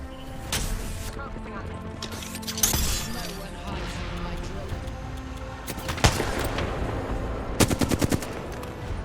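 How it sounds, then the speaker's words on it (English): Kraber sniper rifle shots and other gunfire in a battle in the video game Apex Legends, with sharp loud cracks scattered across the fight, including a cluster of rapid shots near the end. "make sure these Kraber shots counted"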